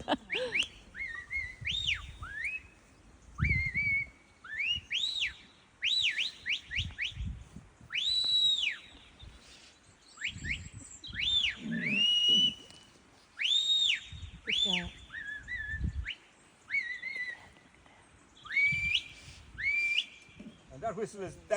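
A shepherd at a sheep herding demonstration at Glen Keen Farm, County Mayo, Ireland, gives the "that'll do" whistle command to a sheepdog. Repeated rising and falling whistled notes come in short rhythmic phrases over a low outdoor background.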